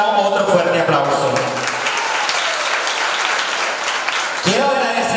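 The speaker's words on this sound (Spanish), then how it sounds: "También le regalamos otro fuerte aplauso." A crowd at a Miss and Mister 2017 pageant applauds loudly and steadily, with voices rising over the clapping at the start and end.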